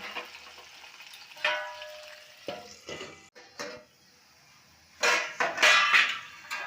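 Potatoes hit hot mustard oil in a wok with five-spice seeds, dried red chilli and bay leaves, giving bursts of loud sizzling and crackling between quieter stretches and a few clinks of the pan.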